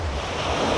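Rough sea surf rolls onto a beach in a brief, steady wash of broadband roar, with wind buffeting the microphone.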